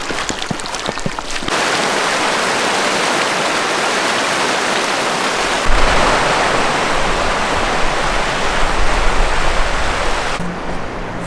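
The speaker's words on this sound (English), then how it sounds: "Beautiful creek flowing in there." A wilderness creek flowing near Golden Lake, heard as a loud, steady rushing wash of water that fills the whole stretch, with a few small knocks at the start and a shift in tone partway through.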